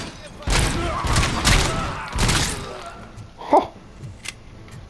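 A submachine gun fires in the video game RoboCop: Rogue City, with loud rapid bursts in quick succession followed by a lone thump. A voice briefly exclaims over the shooting.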